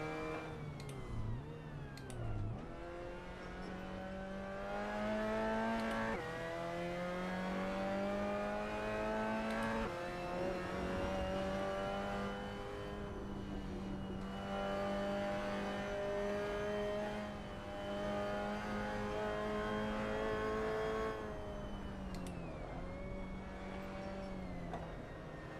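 Race car engine in the Assetto Corsa video game lapping the Nürburgring, a loud, sustained whine that climbs through the revs, dips on gear changes and lifts off near the end, heard alone throughout.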